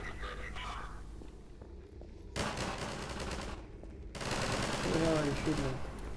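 Gunfire in the video game Half-Life 2: Episode One, sounding as bursts of rapid automatic shots in two loud stretches separated by quieter gaps, with faint speech-like sounds underneath.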